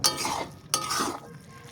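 A spoon scrapes and stirs through cooked semolina and vegetables in a pan, two short bursts of scraping that each fade out, close and moderately loud, with no voices.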